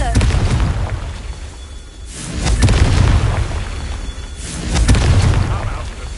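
Confringo fire spell blasts in Hogwarts Legacy, two loud booming explosions a couple of seconds apart, each swelling and rolling off over a rumbling, noisy background.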